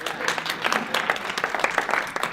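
Brief scattered applause from the audience at a Denver District 6 community forum, a short patter of clapping that rises and fades within a couple of seconds.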